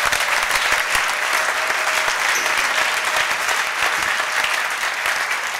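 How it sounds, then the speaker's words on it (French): A church congregation breaks into loud, sustained applause and cheering for the Lord during a French-language sermon, a dense and even wash of clapping that continues without pause. "Est-ce qu'on peut acclamer pour le Seigneur?"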